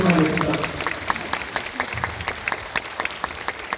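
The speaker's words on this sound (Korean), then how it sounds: "두 감독님께 큰 박수 드리면서" Audience at a film talk session clapping for two directors, a brisk burst of many hands that starts full and thins out over a few seconds, with some voices over it.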